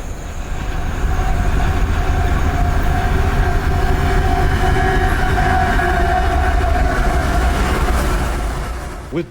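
Norfolk Southern freight train rolling through a rail diamond crossing: a loud, continuous rumble and grinding of wheels on rail with sustained metallic squeals, steady for the whole stretch and easing slightly at the end.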